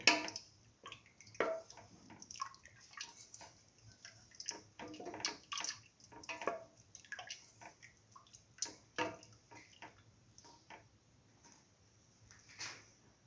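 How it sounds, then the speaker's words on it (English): A soup of split mung beans, coconut milk and vermicelli boils in a pot, giving quiet irregular bubbling and popping with soft watery churning. "Let this mixture boil."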